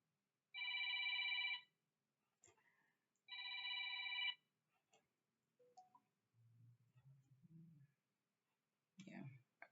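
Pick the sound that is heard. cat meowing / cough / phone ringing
phone ringing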